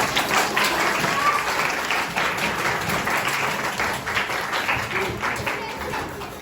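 Audience applause for a folk minstrel at a traditional âşık performance, dense and steady throughout, fairly loud and sustained without clear pauses.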